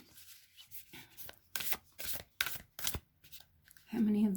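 Cards being shuffled in several quick riffling bursts, close and crisp, followed by a brief voice.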